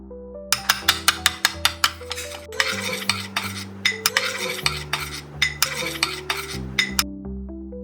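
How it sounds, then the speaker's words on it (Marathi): Spoon clinking and scraping in a bowl while masala chutney of garlic masala, black chilli and coriander powder is mixed, a rapid run of bright metallic taps and rhythmic stirring strokes, close and alone. "पूर्ण चटणी मिक्स करून घ्यायची."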